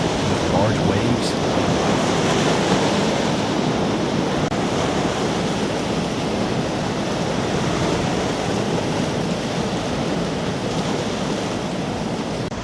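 Large waves churned up by a passing container ship wash across a 600-metre-wide tidal river, a loud rolling roar of turbulent water with wind buffeting the microphone throughout.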